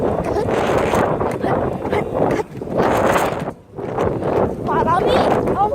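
Strong gusts of wind buffet the microphone outdoors in a residential neighborhood, roaring loudly in surges with brief lulls, while a person talks underneath.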